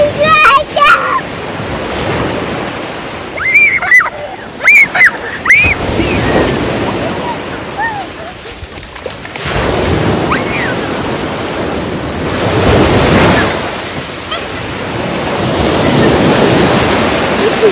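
Sea waves roll onto the beach at Sveti Stefan, Montenegro, surging and breaking in loud swells amid gusty wind noise, while people talk and a voice calls out over the surf.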